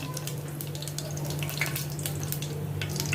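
Mustard seeds and curry leaves hit hot oil in a home kitchen pan for rasam, producing a steady crackling sizzle with scattered sharp pops and spits over a constant low hum.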